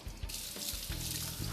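A raw salmon fillet rinsed under a running kitchen tap: a brief hissing splash of water starting a moment in and flowing steadily to the end.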